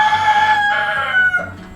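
Chickens in a walk-in backyard coop, a rooster's crow ringing out loud and close with clucking hens underneath, the calls sliding and fading near the end.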